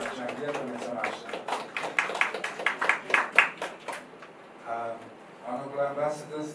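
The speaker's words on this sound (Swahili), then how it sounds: "Please begin makofi kwa watu wote ambao wanachangia kwenye tamasha." Hands clap at a Sauti za Busara festival press conference in Zanzibar, a short run of fairly quick, even claps mixed with voices talking through and after them.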